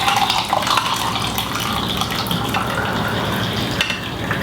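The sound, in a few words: freshly brewed hot pour-over coffee poured into Tupkee glass tumbler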